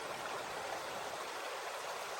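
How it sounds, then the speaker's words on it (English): A creek near Laird Lake flows in a steady, close wash of broadband rushing water, even and continuous throughout with no voices. "Just enjoy the beautiful creek here."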